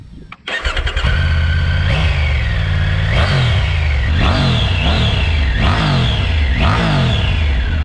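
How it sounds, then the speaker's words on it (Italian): A Triumph 900 GT Pro three-cylinder motorcycle engine starts up and is revved repeatedly, several sharp blips rising and falling over a steady idle, loud and close with no talk. "Sentiamo il sound del nostro tre cilindri"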